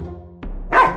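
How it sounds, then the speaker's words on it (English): A Dalmatian dog gives a single short bark, close and clear, after a moment of low background tone. "Dalmatian."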